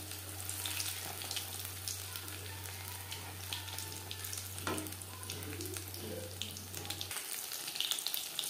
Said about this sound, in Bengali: তিন চারবার উল্টে পাল্টে ক্রিস্পি করে ভেজে নিয়েছি।